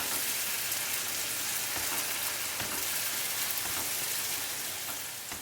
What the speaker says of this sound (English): I'm gonna add those to onion and give it a good stir so that it mixes up well.